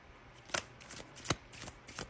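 Tarot cards are drawn and riffled from a deck up close in a quiet room, with a few sharp papery flicks and snaps over about two seconds.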